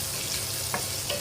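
Ginger sizzles and crackles as it is stir-fried in a pot, a dense, steady frying hiss close by with a faint scrape of stirring.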